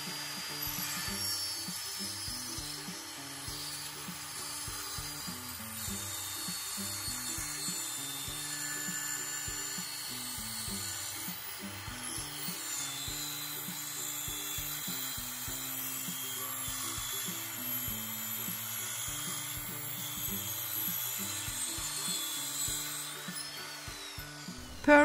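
A saw fitted with a fine-toothed finishing blade cuts down a wooden door, a continuous faint rasping whine with a busy irregular texture running for about twenty-five seconds.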